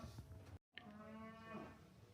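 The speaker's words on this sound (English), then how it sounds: "That's cows. It is probably maybe TB testing today or weighing today. But there's a lot of mooing." Cattle moo at a distance, apparently during TB testing or weighing on a farm. The low, drawn-out lowing is faint and overlapping, with a brief silent gap near the start.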